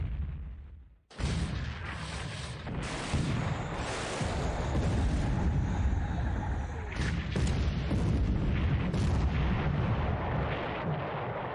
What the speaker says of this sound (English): A lot of gunfire at the Dent.